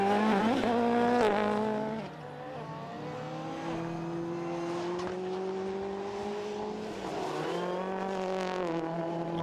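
A rallycross race car at Lydden Hill in the British Rallycross Championship, running through the Joker lap as its engine drones steadily and rises and falls in pitch across gear changes, close and continuous, with no talk.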